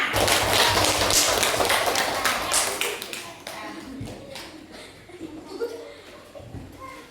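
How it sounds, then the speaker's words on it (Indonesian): Classroom of pupils in a coding lesson bursts into hand clapping, loud at first and thinning out over several seconds into scattered claps, thumps and voices. "Sekali lagi tepuk tangan buat kita semua."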